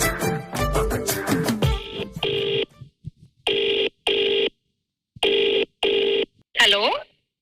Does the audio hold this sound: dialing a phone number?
yes